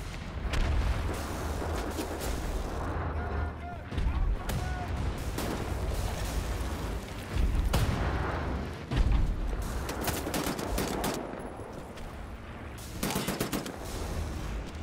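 Hand grenade blasts and gunfire in the shooter Wolfenstein: The New Order, with several sharp booming bursts and rattling shots spread across the stretch amid combat noise, with some voices mixed in.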